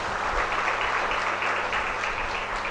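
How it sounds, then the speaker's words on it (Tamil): An audience at a seminar on intellectual property law breaks into sustained applause, a dense, even wash of many hands clapping at once, loud and continuous with no voices. "அதனால் அவங்களுக்கு ஒரு பெரிய கரகோஷம் கொடுங்க."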